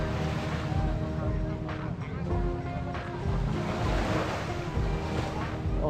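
Strong ocean waves crash and surge on a shore in Camarines Sur, a steady roaring wash of surf with gusty wind noise, and people talk over it.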